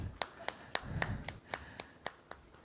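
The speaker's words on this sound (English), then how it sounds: "Ladies and gentlemen, a warm round of applause." Sparse, steady hand claps from a small audience at a media industry conference as panelists are thanked on stage, about nine crisp claps in an even rhythm, with faint room murmur beneath.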